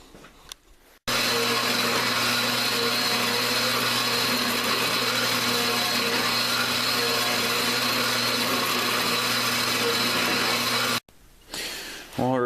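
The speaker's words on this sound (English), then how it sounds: "I'm just going to cut a couple pieces off of this angle I dug out of the snowbank, and we're going to weld them together. So I got it set up in the bandsaw" A bandsaw cuts through 1.5-inch steel angle iron, a loud, steady grinding whine with constant mechanical hum that starts abruptly after a brief pause, runs unbroken for about ten seconds, then stops sharply before some shuffling noise.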